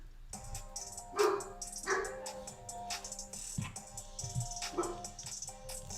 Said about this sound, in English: She barks. I don't know what she's barking at